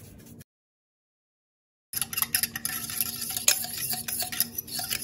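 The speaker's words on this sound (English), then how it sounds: "I'm just gonna use a fork just to mix it up" A fork mixes salad dressing in a bowl with quick scraping, clinking strokes, near and moderately loud, after a brief silent gap.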